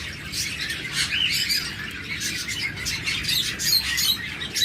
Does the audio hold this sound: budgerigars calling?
yes